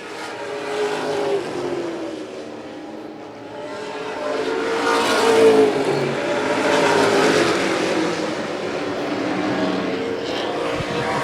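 Pro stock race cars roar around an oval track in a short-track stock car race, engines surging and fading as they pass at mid distance, loud and continuous with no talk.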